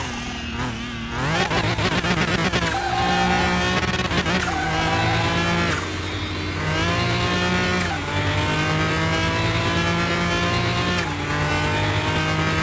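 A BMW fitted with a V12 bi-turbo engine in the Car Mechanic Simulator video game, accelerating hard with tyres squealing: a loud, sustained engine roar that climbs through gear changes, with continuous tyre screech underneath.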